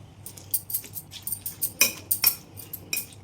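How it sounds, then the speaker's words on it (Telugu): A spoon stirs a tamarind pickle mixture in a container, a run of irregular scraping clinks and taps of metal against the vessel, close and fairly loud with no talk. "ఇలా స్పూన్తో శుభ్రంగా కలిపేసుకుని"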